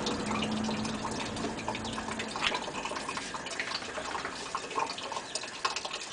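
Running water during a dog's bath: a continuous splashing, trickling flow close by with scattered drips and small gushes, steady throughout with no talk.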